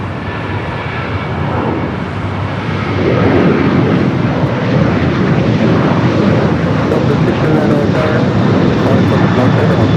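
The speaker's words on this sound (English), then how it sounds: "Next heavy arrival." A heavy jet airliner arriving at LAX, its engine rumble growing louder a few seconds in and holding as a broad roar, with voices talking over it.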